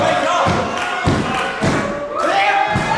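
A wrestler takes a clothesline during a live pro wrestling match, with several dull thuds of bodies hitting the mat over a murmuring crowd and commentary.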